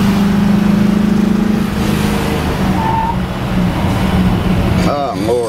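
A 1961 Ford Fairlane 500 with a Holman Moody 428 Cobra Jet V8 pulls at half throttle, a loud, close, steady engine drone with a driver talking over it.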